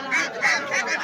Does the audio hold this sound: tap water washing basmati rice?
no